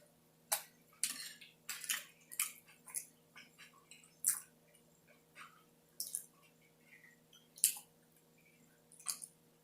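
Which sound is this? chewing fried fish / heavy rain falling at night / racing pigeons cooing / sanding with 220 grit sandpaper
chewing fried fish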